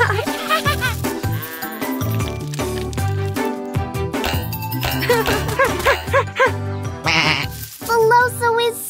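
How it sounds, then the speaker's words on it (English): A sheep bleats repeatedly, wavering cries over busy background music with light jingling, loud and close throughout. "Felipe, she's sure to win the fluffiest sheep contest."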